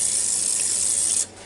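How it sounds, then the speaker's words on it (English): Olive oil hisses from a spray bottle onto a steak in a single short, close burst of bright mist that cuts off abruptly, with no talking. "So, spray it with some olive oil."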